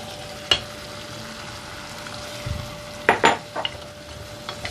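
Fresh fava beans and tomato are stirred in olive oil in a pan, with a soft steady sizzle under a few sharp utensil scrapes and clatters against the pot.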